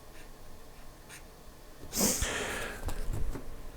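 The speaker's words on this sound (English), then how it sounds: "I'm drawing some square waves here." Scratchy strokes of drawing square waves on paper, with quiet rustling at first and then a denser burst of close, rhythmic scraping in the second half, with no talking.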